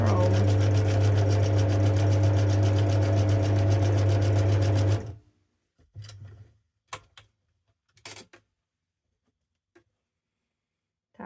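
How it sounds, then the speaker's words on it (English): An old sewing machine stitches fabric for an envelope pouch with a loud, steady mechanical whir that runs for about five seconds and then stops, followed by a few soft scattered clicks and handling sounds. "Now, please be nice to me, sewing machine. I know you're old."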